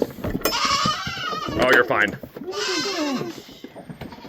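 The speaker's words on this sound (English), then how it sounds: "Goats, goats, goats." Goats bleat loudly on a small farm, several close wavering calls overlapping one another, with a person talking in between.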